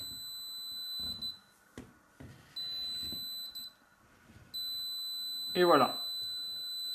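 Material detector scanning a wall for steel rebar, giving steady high electronic tones that switch on and off in several stretches, with someone speaking in between and over them.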